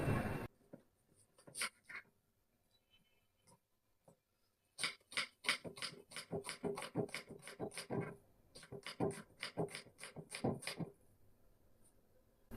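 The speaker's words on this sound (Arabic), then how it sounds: "فهنقطع البصل دلوقتي، طريقه سهله جدا عادي يعني" A knife slices an onion into thin strips on a cutting board, giving quick, sharp chopping taps that come in rapid close bursts with short pauses, fairly quiet and close, without anyone talking.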